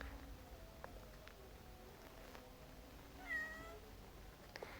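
A single faint cat meow rises briefly out of a quiet room, with a few soft clicks and shuffles around it and no talking.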